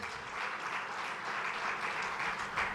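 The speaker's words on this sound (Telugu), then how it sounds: "చప్పట్లు కొట్టి దేవుని స్తుతించండి." A church congregation claps together in praise during a sermon, a dense, steady burst of applause that lasts about three seconds without pause.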